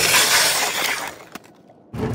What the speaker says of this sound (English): It's the sounds from cracks striking beneath me and the vibrations within the ice plate